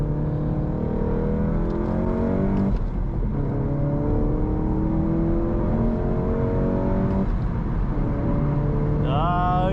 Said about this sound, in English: Let's step on the gas.